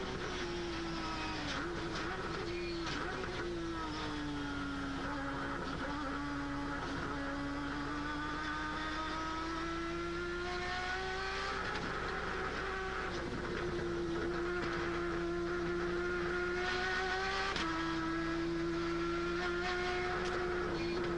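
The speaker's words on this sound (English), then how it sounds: "Listen to that little Mazda rotor engine scream when it gets off this corner" A Mazda rotary-engined race car in a Grand-Am race at Mexico City revs hard out of a corner, its high buzzing engine note rising and falling through gear changes, steady and loud.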